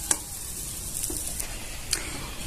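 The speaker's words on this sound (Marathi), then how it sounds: "इथे छान असं आपल्याला परतून झालेलं आहे" Jaggery and semolina modak mixture sizzles and is stirred in a pan, a soft continuous frying hiss broken by a few sharp spoon scrapes and clicks against the metal.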